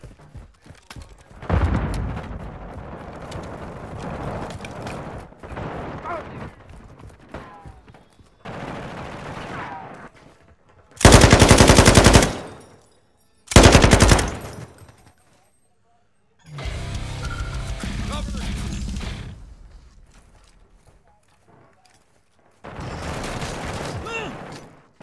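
Light machine gun fire from the MW2 Beta shooter, arriving in several loud sustained bursts separated by gaps, with game noise and muffled voices in between.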